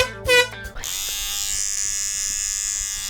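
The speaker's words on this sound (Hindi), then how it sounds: "ये एक टूथब्रश है" A toothbrush buzzes steadily for about two seconds after a short burst of voice, a close, even electric hum with a bright high-pitched whine.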